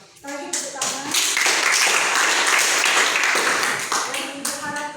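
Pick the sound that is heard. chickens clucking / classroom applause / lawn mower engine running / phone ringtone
classroom applause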